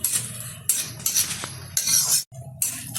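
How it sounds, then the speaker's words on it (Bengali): A spoon stirs nuts being lightly fried in a pan for a Bengali lachha semai dish, giving soft scraping and clinking scrapes in uneven bursts over a faint sizzle, close by with no talk. "হালকা আছে একটু নেড়ে চেড়ে ভেজে নিচ্ছি"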